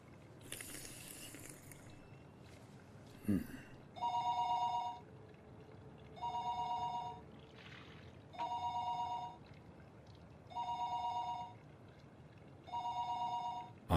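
Telephone ringing on an unanswered call, five evenly spaced electronic ring bursts of about a second each, clear and moderately loud, after a brief clatter at the start, with no one answering.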